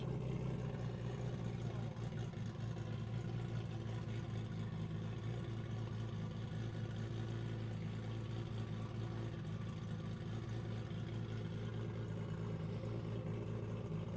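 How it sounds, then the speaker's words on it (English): A streamliner race car at Bonneville holds a steady, droning engine rumble throughout, loud and constant, with a faint higher turbo whine rising slightly underneath as it spools up. "I can hear the turbo in this thing starting to spool up a little bit."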